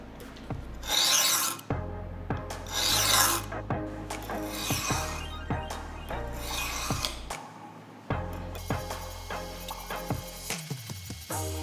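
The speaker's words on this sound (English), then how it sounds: "we're gonna use a Norton India stone. We're gonna use the coarse side and then the fine side with a little WD-40." Damascus bowie knife blade rasped across the coarse side of a Norton India stone with a little WD-40, repeated scraping strokes in an irregular rhythm, close and fairly loud with no talking.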